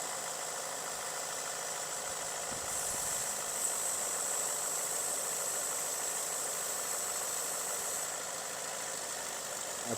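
A Ford F150 with a 5.0L V8 idles with its intake off, a steady low hum under a faint high whine, even and unchanging throughout with no talk.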